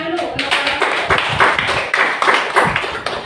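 A classroom of students claps in a quick, loosely rhythmic burst for a group, the hand claps close and distinct with voices mixed in.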